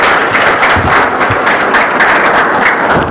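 A church congregation bursts into sustained, dense clapping and applause, loud and close, filling the room evenly for several seconds with no voices over it.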